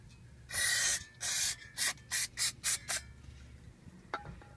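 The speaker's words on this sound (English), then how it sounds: "you want to take your brake cleaner again, spray it all off, both sides." Brake cleaner sprayed onto the brakes of a Subaru Legacy GT in close, hissing bursts: two long blasts, then five short quick spurts, followed by a faint clink.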